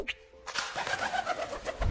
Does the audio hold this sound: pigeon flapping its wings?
yes